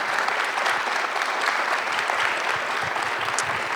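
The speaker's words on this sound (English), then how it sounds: "can we give our panelists a really great, resounding round of applause?" Steady, dense applause from a conference audience honoring a panel of speakers at a women's leadership event, loud and continuous with no break or voices standing out.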